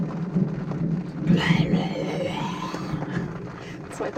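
Thunder during a thunderstorm at sea in the Tuamotus in cyclone season, a low rumbling roll that swells midway and fades, with soft rain-like noise and some voice underneath.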